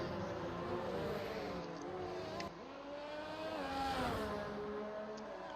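An F1 car leaving the pits on medium tyres in the F1 2019 video game gives a steady, high-pitched engine whine that rises and shifts in pitch. It sounds fairly faint and distant.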